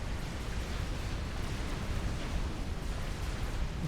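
A nuke detonates in a Supreme Commander match, a dense, sustained low roar rolling on for several seconds with no sharp onset and no voices.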